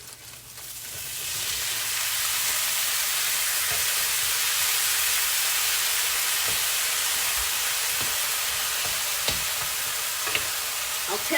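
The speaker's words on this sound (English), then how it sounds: "I'm going to add my roast beef, and it's still just a tad icy, so it's probably going to pop just a little bit" Leftover roast beef, still slightly icy, sizzles and fries steadily in a hot pan with onions on a home stove, a loud continuous hiss broken by a few sharp pops near the end.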